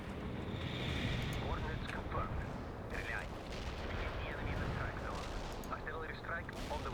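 Artillery units firing in the real-time strategy game World in Conflict, with heavy booming shots and rumbling blasts running continuously under steady talking over dense battlefield noise.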